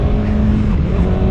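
A 2024 Kawasaki ZX-6R sport motorcycle revs loud and close, its engine note stepping through a quick clutchless upshift.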